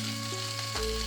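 Cauliflower and potatoes fry in hot oil with a steady, close hiss and crackle over a low hum, the tone shifting slightly partway through.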